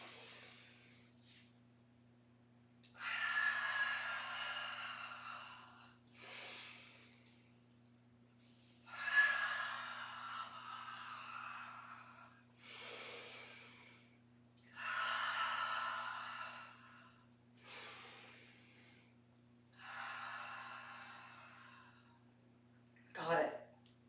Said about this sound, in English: I'm going to be silent, just hearing my breath.